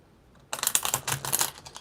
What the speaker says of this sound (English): let me do one good shuffle